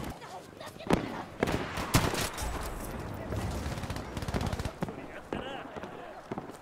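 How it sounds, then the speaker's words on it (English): Machine gun fire rattles in the Battlefield V video game, sharp bursts and scattered shots at moderate distance, with someone talking over much of it. "Here's some type of machine fire right in front of me"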